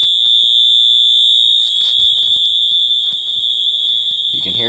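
A fire alarm horn with a 1575 candela strobe sounds during a system test, a loud, continuous piercing tone holding steady throughout, with occasional clicks and brief talk beneath it.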